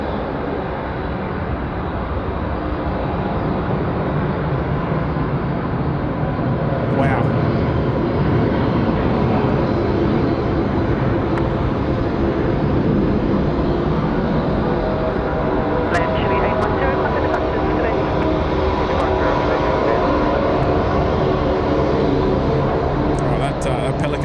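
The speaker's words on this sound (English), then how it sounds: "Latam rolling long as well. There's a long takeoff roll here." A loud, steady jet engine roar from a LATAM airliner on a long takeoff roll at Sydney Airport, holding for the whole stretch, with a broad rushing noise and faint voices underneath.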